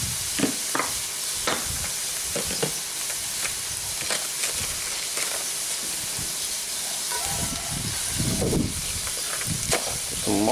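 Duck, peppers and onions fry in a cast iron pan with a steady hiss and sizzle, broken by scattered scraping and stirring knocks. Louder bursts of spatter come near the end.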